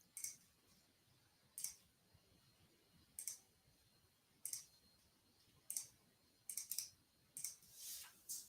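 Faint, crisp computer mouse clicks come singly and in quick pairs at irregular intervals, with a brief soft rustle near the end, over near silence.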